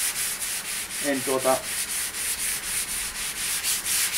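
Wet sanding of Valtra tractor sheet-metal panels with sandpaper and plenty of water, a steady close rhythmic scrubbing with regular back-and-forth strokes throughout, plus a short burst of voice in the middle.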